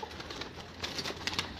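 Pigeons coo at a loft, soft murmuring calls with a few brief sharper peaks, faint and continuous over low background noise.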